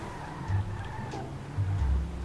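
Car driving and skidding in GTA 5 Online, with two low tyre-skid bursts rising over a steady engine hum, no talk.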